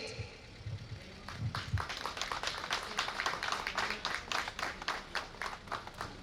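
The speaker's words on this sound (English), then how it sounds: "give a big round of applause while our honorable chief guest is returning to the dais after inspecting the parade" Crowd applause at a police recruit constables' passing out parade as the chief guest returns to the dais, a dense steady clatter of many hands lasting several seconds, with a faint low rumble at the start.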